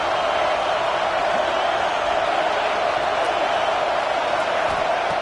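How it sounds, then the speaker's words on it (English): A stadium crowd at a football game gives off a steady, dense roar of many voices, constant and moderately loud, with no distinct cheers rising out of it. "Listen to the crowd energy here in the early going."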